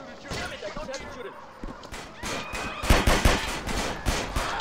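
Rapid bursts of synthetic video game gunfire in GTA San Andreas crack and rattle in quick succession, loud and close, growing denser toward the end, with no speech.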